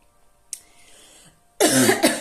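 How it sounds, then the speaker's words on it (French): A single throaty cough bursts out close by after a brief quiet breathy sound, loud and harsh, with no talking. "je tousse, mais ça coince"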